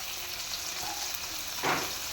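Cumin seeds sizzling in hot oil in a pan while stuffed karela is being cooked, giving a soft steady frying hiss with a brief louder crackle near the end.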